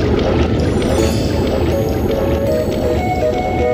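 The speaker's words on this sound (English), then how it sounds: "the water's draining away" Water draining away in the video game Fortune Summoners after a lever is pulled, a steady loud rushing and gurgling that runs continuously without pause.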